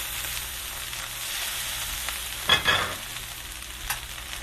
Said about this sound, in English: Now I'm going to add my greens, the bok choy and the spring mix that I have.